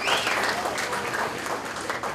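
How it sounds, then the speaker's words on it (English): Audience at a Class of 2017 senior breakfast clapping in a short burst of applause, moderately loud and dense, with some crowd murmur mixed in. "I think I heard a slight clap over there"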